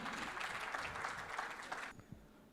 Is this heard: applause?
yes